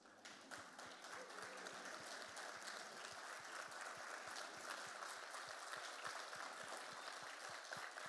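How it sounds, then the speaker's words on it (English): A standing audience at a youth empowerment gathering in Stanislaus County gives a round of applause for people who serve youth, a faint, even patter of many hands continuing throughout. "would you please stand to your feet so we can give you a round of applause"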